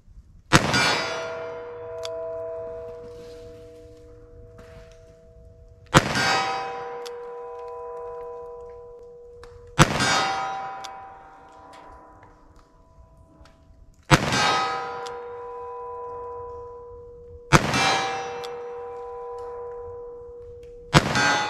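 Taurus 856 3-inch revolver rounds strike a steel silhouette target. Five loud metallic clangs land about four seconds apart, and each rings out with a long, fading tone.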